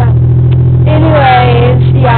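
A car creeps through town at about two miles per hour, its low, steady engine hum running throughout while voices talk over it in the cabin.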